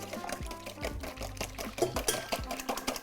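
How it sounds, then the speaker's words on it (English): Eggs being whisked by hand in a bowl, a rapid, close series of light clicking and tapping strokes that repeats steadily for about three seconds with no talk. "So once you get that going, you're just gonna whisk."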